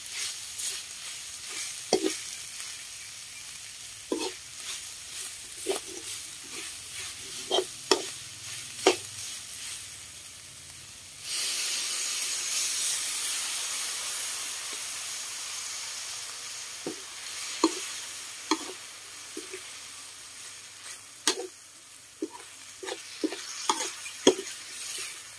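Beef with hand-pounded curry paste stir-fried in a pan, a quiet sizzle punctuated by scattered spatula knocks and scrapes, then a surge of louder hissing steam midway before the sparse clinking stirs return.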